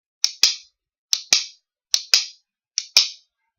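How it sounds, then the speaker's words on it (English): Rhythm bones click a forward couplet in four quick pairs, each pair a light tap followed by a louder, sharper clack, evenly spaced and played alone. "It allows us to put the accent on the second beat, like this."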